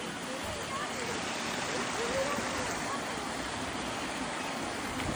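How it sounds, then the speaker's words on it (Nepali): A small stream flows with a steady, even rushing wash that fills the whole stretch, with faint voices in the background. "यतातिर यो सानो खोला हो"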